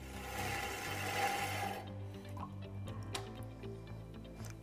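A scraper held on a Tormek diamond wheel, resting under its own weight, gives a fine gritty grinding rasp for under two seconds before fading into quieter ticks and small clicks nearby.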